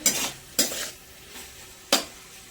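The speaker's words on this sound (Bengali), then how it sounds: "ভালো করে নেড়েচেড়ে এবার হতে দেবো। টমেটোগুলো সফট হয়ে গেছে।" Tomatoes sizzle in a pan for a chicken stew while a utensil stirs them in three quick scraping strokes. A soft, steady frying hiss runs between the strokes, close and clear.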